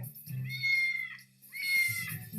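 A cat at a humane society adoption center gives two long, drawn-out meows, loud and close, with a low purring or rumbling tone between them.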